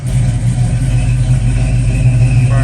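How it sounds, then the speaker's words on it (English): A rebuilt carbureted 454 V8 in a 1969 Camaro cold-starts close by, settling into a loud, steady rumbling idle with slight swells in engine note. "so this will be a good cold start here"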